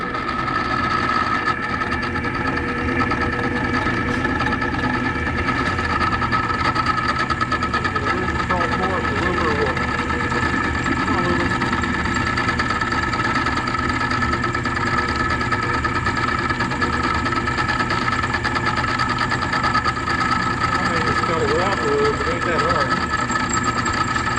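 A machine slowly cutting a 6L80RE transmission shifter bushing under light pressure gives a steady mid-pitched engine-like hum with a faint tonal whine, loud and unbroken throughout, while someone talks over it.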